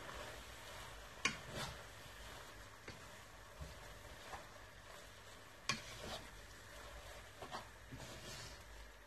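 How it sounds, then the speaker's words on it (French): Stir-fried chicken and vegetable noodles are being mixed in a pan, producing a faint, soft sizzle with occasional light scrapes and clicks of a utensil at irregular intervals, quiet and close. "et je mélange le tout"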